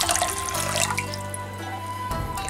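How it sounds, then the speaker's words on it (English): Water is poured onto kelp for Japanese takikomi gohan, a short splashing stream into a container that stops after about two seconds, close and moderately quiet. "One and a half cup of water."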